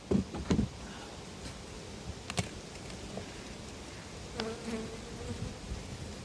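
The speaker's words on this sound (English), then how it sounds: "lots of bees, and they haven't eaten that protein" Honeybees buzz at a hive in a soft, steady hum close by, with a few louder passes and light knocks near the start.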